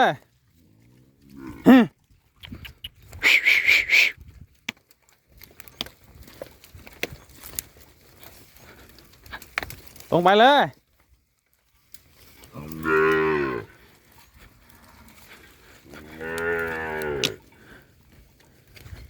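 Morning release of a cattle herd into open fields, with several loud, drawn-out moos scattered across the stretch, some near and some farther off, while a man calls out to the animals between them.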